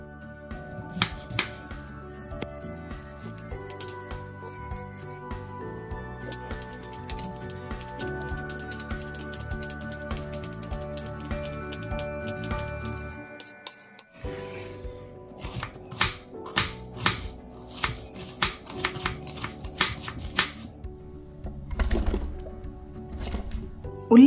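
Onions are chopped on a board for a spicy radish chutney, a series of close, sharp knife taps that come sparse and then quicken into irregular bursts, over faint background music.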